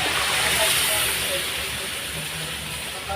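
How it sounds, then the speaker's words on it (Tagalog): Beef steak and beef cubes sizzle steadily while sautéing in a pan, a loud, dense hiss that holds the whole time with no talk over it. "So, igisa ko naman siya ulit para mas masarap ang ating beef steak."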